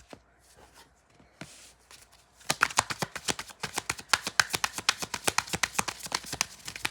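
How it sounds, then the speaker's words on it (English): Tarot cards handled at close range: a few quiet taps and slides at first, then a rapid, even run of crisp riffling flicks as the deck is shuffled, with no talking. "I'm gonna get a couple cards out."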